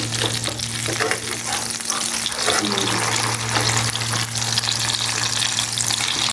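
Kebabs fry loudly in a pan with the lid lifted off, producing a dense, continuous close sizzle with occasional scraping as the pieces are turned over. A steady low hum runs underneath.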